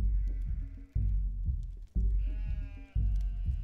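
A nanny goat bleats in repeated drawn-out, wavering calls, about four in quick succession, close and loud with no talking over them.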